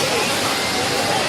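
Steady broadband rush of the Mayabi waterfall, water pouring continuously and loud, heard close with no break.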